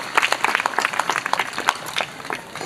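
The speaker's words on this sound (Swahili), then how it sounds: "Makofi kwa Wallace Karia" An audience applauds for Wallace Karia in a rapid, uneven burst of many hands clapping that holds fairly loud, then thins and fades toward the end.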